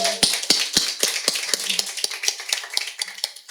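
A church congregation gives encouraging applause during a Sunday service, sparse and uneven claps from a small group, fairly close and without talk.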